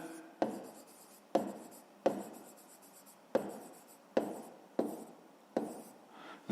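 Pen or chalk strokes writing out a fraction during a fifth-grade maths lesson, seven distinct scratchy strokes in an uneven rhythm, close and clear with no talking.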